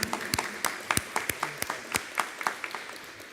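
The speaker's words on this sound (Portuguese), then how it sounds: "Salve de palmas para você," A small church congregation at a Mass gives a short round of applause: sparse, separate claps from a few people, fairly close and not very loud, without talk over them.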